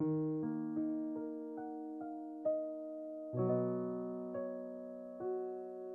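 A NUX NPK-20 digital piano with touch sensitivity on plays a short melody of single notes and chords, each note striking with varied loudness and ringing briefly, close and clear.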